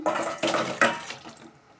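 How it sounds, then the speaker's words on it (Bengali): Pumpkin and potato curry with fritters is poured out of a pan, giving a few wet sloshing, splattering bursts that fade into quiet, with no voices. "এবার আমি ঢেলে নেবো তরকারিটা আমি ঢেলে নিচ্ছি"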